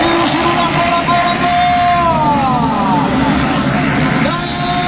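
A motocross motorcycle in the Nacional Pro category at a race in Terezinha, its engine revving in rising and falling sweeps beneath an excited announcer's continuous commentary.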